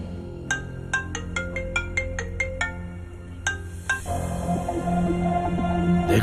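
A phone ringtone plays a repeating electronic melody of short bright tones, ringing on unanswered with no voice over it, before a louder musical underscore swells in at the end.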